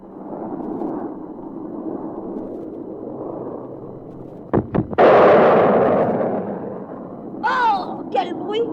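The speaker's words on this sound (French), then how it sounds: "Peut-être nous pourrons entendre le fameux bang-bang quand il va passer le mur du son." A Mystère IV jet passes through the sound barrier, producing a sharp double bang followed by a loud, rumbling roar that slowly fades, with a voice briefly heard afterward.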